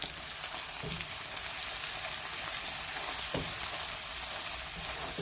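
Fresh chillies and spices sizzling loudly in oil in a pan, a strong, continuous hiss with a few clinks as they are stirred, close by and without speech.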